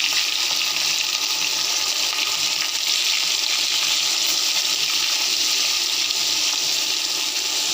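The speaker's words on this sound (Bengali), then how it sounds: "এখন মাছটা ভেজে নিচ্ছি।" Fish sizzling as it fries in a pan of hot oil, a steady, dense hiss with faint crackles running throughout without pause, close and fairly loud, with no voices.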